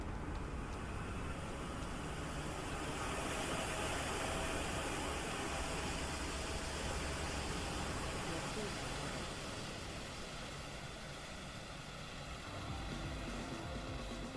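A PMDG 777-200ER's APU exhaust runs in MSFS 2024 as a steady broadband roar with a low rumble, constant and fairly close throughout.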